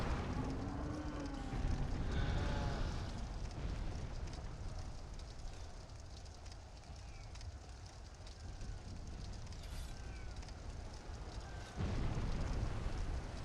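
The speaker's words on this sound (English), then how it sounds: "Just going to let them all die to the fire before I try going in." Fire burning in Dark Souls 2 Scholar, a steady low roaring rush of flames with occasional crackles and swells, moderately quiet and continuous throughout.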